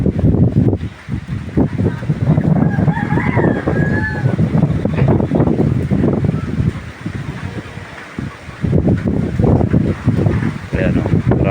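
Strong typhoon Uwan wind roars and buffets the microphone continuously at close range, with gusty surges throughout and a voice speaking over it.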